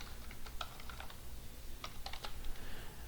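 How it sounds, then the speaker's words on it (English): Computer keyboard typing during a programming lesson, irregular bursts of light clicking keystrokes close up against a quiet room background. "I'm going to type in button 2"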